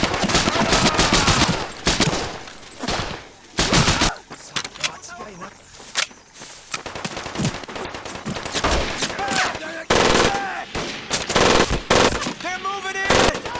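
Dense automatic gunfire and rifle shots in the World War II shooter Medal of Honor: Pacific Assault, loud and nearly continuous bursts with shouted battle voices mixed in over the whole stretch.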